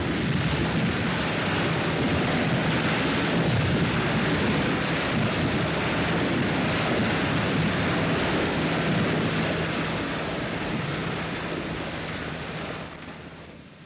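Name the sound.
sea water rushing in through opened valves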